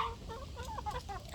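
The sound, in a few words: black diamond rooster clucking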